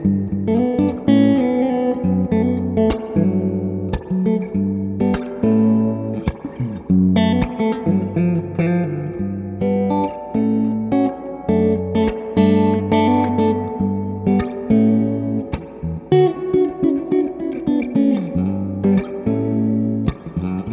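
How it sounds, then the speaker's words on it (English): A PRS signature electric guitar played through a real tube reverb, loud and sustained, with distorted chords and single notes ringing into a spacious reverb tail throughout, and no talking. "it wasn't actually a digital reverb. This was an actual tube reverb"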